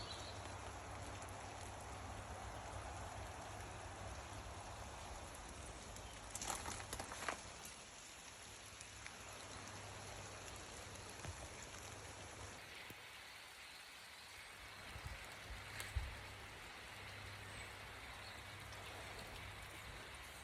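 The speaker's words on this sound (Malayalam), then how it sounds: "മഴത്തുള്ളികൾക്ക് നല്ല തണുപ്പ്." Steady rain falling outdoors at a holiday cottage in Cornwall, a soft continuous patter of drops on surfaces with a few louder splashes, faint and evenly spread, with no talk.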